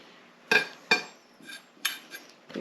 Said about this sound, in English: Shallots. I don't like that really intense onion flavour. Get to the end. Just run your knife through it.